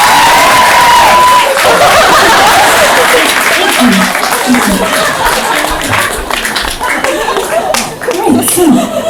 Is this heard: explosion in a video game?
no